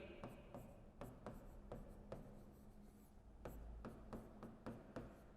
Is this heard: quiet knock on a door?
no